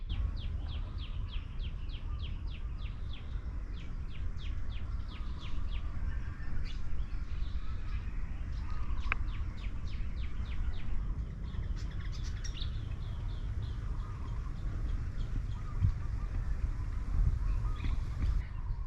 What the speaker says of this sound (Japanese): 鳥のさえずり、